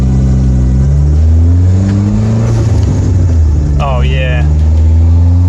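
A boosted car engine, roughly 280 wheel horsepower, revs hard on a street test drive, loud and close with rising and falling pitch through gear changes, and someone briefly speaks over it.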